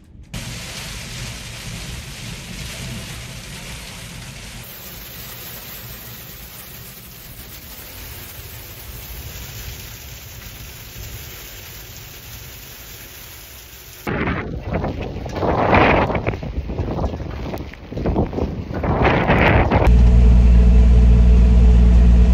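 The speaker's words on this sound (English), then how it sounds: "It's kind of hail and rain. And not much in between other than wind." Steady roar of wind and precipitation, growing harsher with gusty buffeting against the microphone and a dense patter of hail and rain toward the end, turning to sleet.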